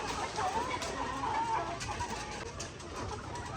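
Hens clucking softly in short bursts, with a few louder calls amid steady background noise.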